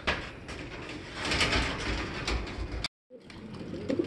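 Dense bird calls and cooing from a flock of pigeons fill the clip, with a brief silent break near the end before the chatter resumes.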